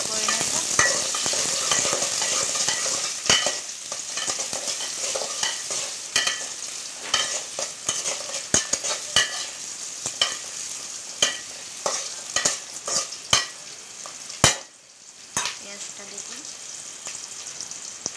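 Onions frying in a pan until brown, a dense continuous sizzle with frequent sharp spatula scrapes and taps, close and fairly loud throughout.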